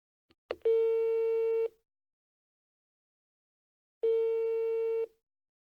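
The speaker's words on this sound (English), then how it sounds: "Your number's ringing now." Two long, steady telephone tones sound during an operator-connected call, each lasting about a second, separated by silence and preceded by a faint click, clean and close on the line.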